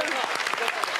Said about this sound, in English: Why y'all clapping?